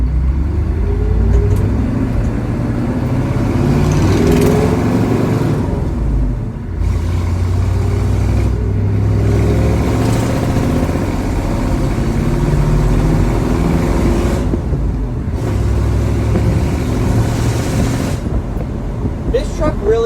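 A 1985 GMC truck's engine rumbles and pulls steadily under load as it accelerates, a loud continuous drone with shifting pitch and a voice speaking over it.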